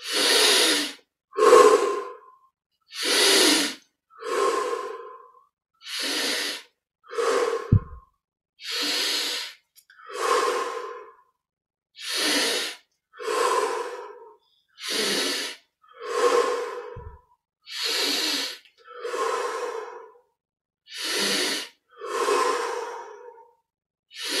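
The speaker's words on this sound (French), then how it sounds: "on respire profondément. Inspire par le nez, expire par la bouche." Slow, deep breathing in a guided yoga and meditation session, each inhale through the nose and exhale through the mouth repeating in a steady rhythm of about a dozen close, loud breaths with no talking.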